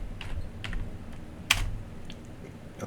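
A computer keyboard clicks in a sparse run of keystrokes while VBA code is being typed, with one sharper tap standing out, close and without talk.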